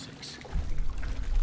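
Water flows through a frozen passage in Call of Duty: Advanced Warfare, first as a soft hiss and then as a steady, louder rushing burble that carries on to the end.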